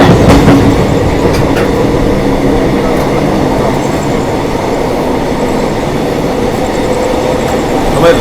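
The 02417 Prayagraj–Dadri summer special train overtakes the Purva Express at night on a triple-line section between Kanpur and Panki Dham, giving a loud, continuous roar of rolling wheels with steady clickety-clack heard close from on board.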